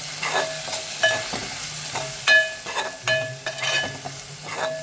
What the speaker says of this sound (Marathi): आता आपण परत एकदा छान असं परतून घेऊया.